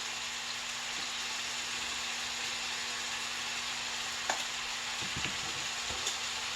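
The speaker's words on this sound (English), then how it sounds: "And just let that meat brown." Seasoned meat browns in a pan with a steady, even sizzle and crackle, broken by a few faint knocks near the end, and no voices.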